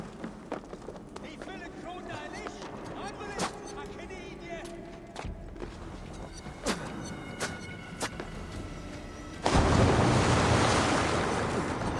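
Ocean water and waves wash steadily in Assassin's Creed Valhalla beneath voices talking, then swell into a loud, broad surge of surf near the end.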